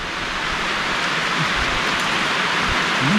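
Heavy rain pours down at night in a garden in a continuous hiss, loud and close, with no voices.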